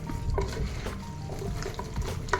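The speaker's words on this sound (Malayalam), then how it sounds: "നല്ല അടിപൊളിയായിട്ട് ഇളക്കി കൊടുക്കുക" Two kilograms of marinated chicken are stirred in a pot, giving a soft, uneven squelch and scrape with a light sizzle underneath and occasional clinks of utensil on metal; no voices are heard.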